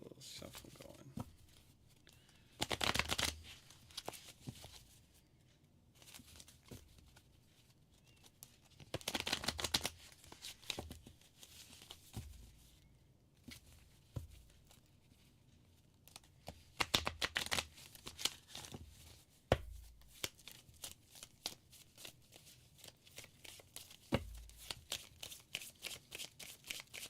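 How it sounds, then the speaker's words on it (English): Tarot cards are shuffled near the microphone in bursts of dense papery flicking separated by quieter pauses, with the rapid card ticks continuing toward the end. "Get a little shuffle going."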